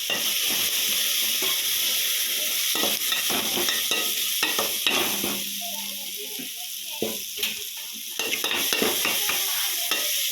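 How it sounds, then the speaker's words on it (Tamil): Rasam spices sizzle in a hot pan while a utensil scrapes and stirs them in irregular strokes, with a soft voice briefly in the background. "நல்லா ரசத்தை நல்லா மசாலையாக கிண்டி விட்டுக்கரலாம்"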